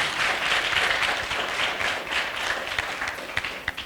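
A debate audience breaks into dense, sustained applause to welcome a visiting lycée team, loud and continuous, easing slightly toward the end with a few sharper individual claps.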